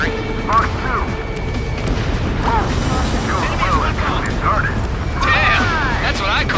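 Explosions rip through buildings during a pipeline-destruction mission in the combat flight game Ace Combat 7, with a steady rumbling blast wash under radio voices talking throughout.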